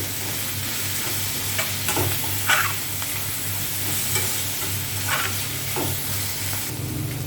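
Ginger, garlic and green chillies fry in oil in a pan, giving a steady close sizzle broken by several sharp scraping stirs of a spoon against the metal.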